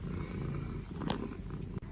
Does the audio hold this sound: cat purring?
yes